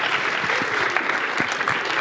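An audience claps warmly to welcome faculty musicians at an arts and entertainment industry forum, a dense, sustained burst of applause filling the room.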